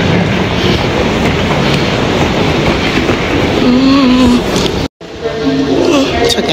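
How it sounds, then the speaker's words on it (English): A train rumbling loudly at close range with rhythmic wheel clatter and a brief high squeal, a voice talking under the noise. "this is actually how the train station is"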